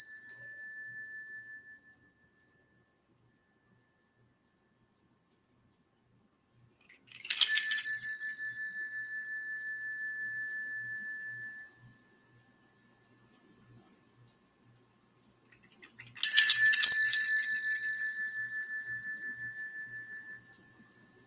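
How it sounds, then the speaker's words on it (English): A small bell rings twice, about nine seconds apart, each strike a bright clear ping with a long fading ring in a quiet indoor room. "I think I'm going to ring the bell for you guys to kind of bring in some energy too."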